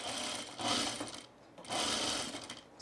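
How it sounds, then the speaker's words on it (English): A sewing machine runs in two quiet bursts, stitching the inner cuff to the inner sleeve of a men's Arbor shirt, whirring on, pausing briefly, then whirring again. "so we're going to sew this"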